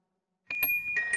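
A two-tone electronic doorbell chimes once with a bright ding-dong, clear and close, its tones ringing briefly after a short silence.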